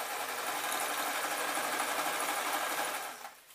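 A sewing machine stitches turquoise fabric with a dense, rapid whirring hum that stays steady and close, then slows and stops at the end.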